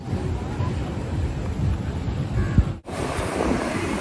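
Sea waves wash in on Tajpur beach at night, a continuous roar of surf heavily buffeted by wind noise with a brief dropout partway through.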